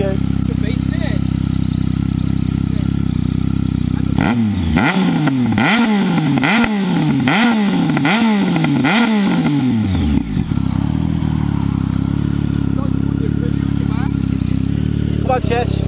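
Superbike engines revving, an Aprilia RSV4 among them, with a series of rapid, loud throttle blips rising and falling about six times over a steady idle, close by, with people talking at points.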